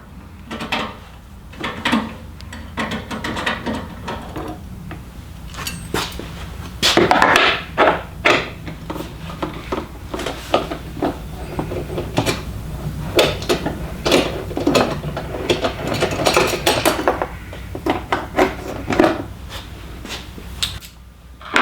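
On a KLR650 motorcycle, tools work two 8mm bolts out of a side panel, giving a close run of ratcheting clicks, metallic clinks and rattles with irregular, busy rhythm.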